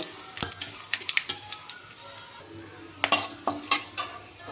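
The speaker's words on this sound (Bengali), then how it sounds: "ফোড়নে দেওয়ার জন্য নিয়েছি জিরা, এলাচ, দারচিনি, লবঙ্গ, শুকনো লঙ্কা, তেজপাতা দিয়ে দেব" Whole cumin, cardamom, cinnamon, cloves, dried chilli and bay leaf crackle and sizzle in hot oil in a pan while a spoon clinks and stirs, giving a close, uneven patter with sharper spikes near the end.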